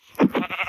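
Sheep bleating in the Minecraft video game, three short wavering bleats in quick succession, close and clear with no talk over them.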